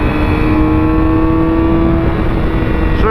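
A motorcycle engine climbs in pitch as the rider opens the throttle out of a turn, heard loud and close with steady rising tones and wind noise, and no talk.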